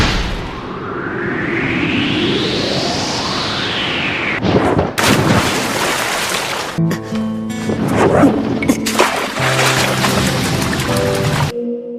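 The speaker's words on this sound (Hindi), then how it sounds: "Fire style Phoenix flower jutsu." Anime fire-style jutsu attack effects from a Naruto versus Sasuke fight: a rising whoosh builds to loud blasts and crackling bursts, then layered booming impacts with a swelling musical score, continuous and dense throughout.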